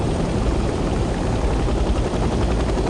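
Steady, loud helicopter rotor and engine roar in the Vietnam-era shooter Hell Let Loose: Vietnam, a continuous dense drone heard close up with no breaks or talk.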